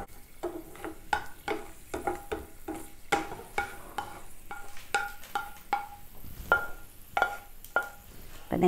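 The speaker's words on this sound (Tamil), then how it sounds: "நெய்ல முந்திரி வறுத்தாச்சு" Cashew nuts frying in ghee for a festival dish give a soft sizzle under repeated sharp metallic taps and scrapes of a spoon against the pan, coming in an uneven rhythm throughout.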